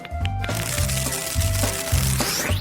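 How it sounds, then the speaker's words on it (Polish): Sponge biscuits are crumbled into a glass for a cake, giving close, loud, repeated crunching and cracking bursts in an irregular rhythm over a steady background. "Okruszę biszkopty"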